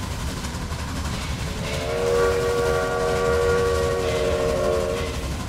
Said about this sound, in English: ride along on the train and admire the scenery and kind of listen to the power in that engine.